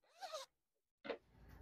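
A zipper on a crochet fanny pack is pulled in two short, close rasping strokes separated by a brief silence, quiet and with no voices.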